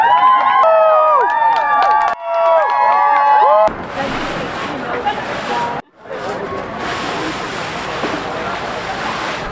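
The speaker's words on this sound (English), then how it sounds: "you mind doing a cheer for the camera?" A crowd cheers and whoops for a camera at Bufferfest, with loud, layered voices yelling at close range. The noise is broken by abrupt cuts and a brief dropout partway through.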